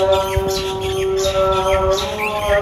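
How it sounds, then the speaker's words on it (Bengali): Birds chirp in short, bright tweets around a rural village, scattered over a steady low hum in the open air. "পাখির কিচিরমিচির শব্দ।"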